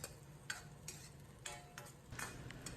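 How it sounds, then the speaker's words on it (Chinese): A spatula scrapes and stirs braised winter melon in thickened sauce in a wok over high heat, giving intermittent clanks and scrapes over a low sizzle, with no talking. "开大火翻炒均匀，使芡汁快速成熟"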